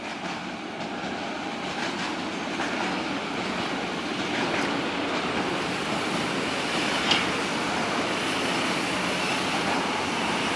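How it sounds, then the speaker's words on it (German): A small blue V60 diesel locomotive pulls into Leipzig Hauptbahnhof, a steady rumbling rail roar with faint clickety-clack. The sound stays broad and even throughout, heard at moderate distance with no voices. "kleine Diesellok Einfahrt."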